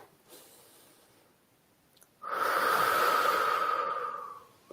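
Deep breath drawn in through the nose, a long loud airy inhale lasting about two seconds after a fainter earlier breath, close and alone.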